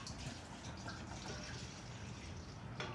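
Half and half being poured into a bowl while making liquid nitrogen ice cream, a soft continuous liquid splashing and trickling that is quiet and steady, with no talking.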